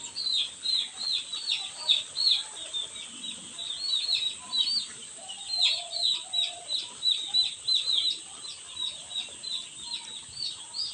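A flock of young chicks on a poultry farm peeps constantly, dense overlapping high chirps pulsing in uneven bursts over a low background hum.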